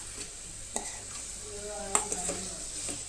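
Carrots are stirred in a pan of hot ghee for gajar halwa, giving a faint sizzle under a few scraping clinks of a spoon against the pan.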